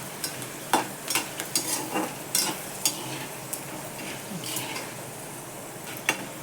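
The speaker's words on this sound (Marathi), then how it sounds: "शेंगदाणे आणि साबुदाणा तळून" Peanuts and homemade nylon sago frying in hot oil for a crispy fasting chivda, a close crackling sizzle punctuated by repeated sharp stirring clinks and scrapes of a spoon against the pan, with no talking.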